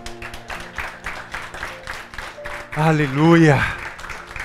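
A church congregation applauding, a steady wash of many hands clapping beneath a speaker's voice and a loud, rising exclamation from someone in the room.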